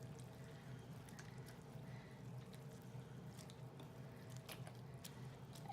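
Wet stirring of a cinnamon raisin bread pudding mixture soaking in a bowl, a soft steady squishing and sloshing that runs throughout at close range, with no talk.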